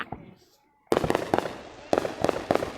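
Fireworks go off in several sharp, crackling bursts in quick succession, fairly close, after a quiet start, with a voice briefly audible.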